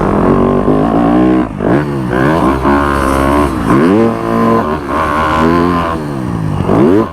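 A dirt bike ridden hard around a supercross track roars loud and close, its engine rising and falling in repeated revving sweeps as the rider shifts through jumps and corners.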